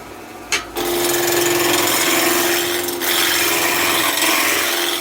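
A big roughing gouge cutting into spinning wood on a lathe while roughing out a small Christmas tree, a loud continuous tearing rasp with a steady hum underneath, briefly dipping once before carrying on.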